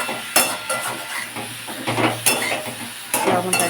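A spatula stirs a large batch of cauliflower-stalk curry with a spoonful of salt in a pan, making repeated scraping, clattering strokes over a steady soft sizzle, close and fairly loud.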